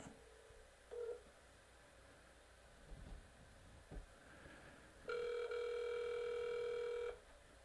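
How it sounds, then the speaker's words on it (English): An outgoing telephone call: faint clicks on a quiet line, then a single loud ringback tone lasting about two seconds before falling silent. "Pick up the phone."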